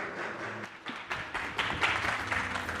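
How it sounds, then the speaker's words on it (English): Applause at a Brazilian games showcase as a presenter from the studio Glitch Factory is introduced: a dense wash of clapping from an audience, fairly soft and even, swelling slightly toward the end. "Round of applause for Pedro."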